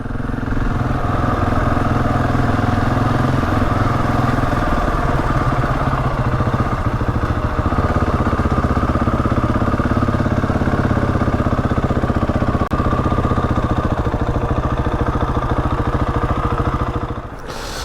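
Motorcycle engine riding uphill, a loud, steady, close rumbling drone with constant throttle that holds for the whole stretch before easing off at the end.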